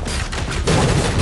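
Gunfire volley erupts in an arena video game battle, a dense burst of shots that swells louder partway through and rolls on continuously without any talk.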